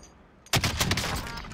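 Close, loud burst of rapid gunfire in Warzone, erupting abruptly after a brief quiet moment and continuing as a dense rattle of shots.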